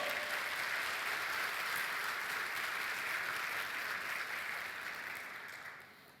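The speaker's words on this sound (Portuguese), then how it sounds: "Você pode dar um aplauso ao Senhor?" A church congregation applauds in a dense, continuous wash of clapping that holds steady and then fades toward the end.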